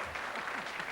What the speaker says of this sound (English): They're applauding themselves now.